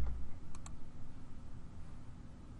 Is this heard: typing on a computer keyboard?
yes